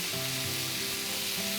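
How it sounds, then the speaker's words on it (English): Baby octopus with tomato, potato and spring onion sautéing in a pan, a dense continuous sizzle held at an even loudness for a brief moment. "We're just going to let that saute just for maybe 2 minutes"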